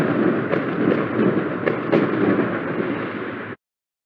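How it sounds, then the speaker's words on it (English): Fireworks set off at a Premier League football ground to mark a goal: a dense roar of crackling bursts with several sharper pops, loud and continuous for several seconds before cutting off abruptly. "That was fireworks time to indicate that there's been another goal."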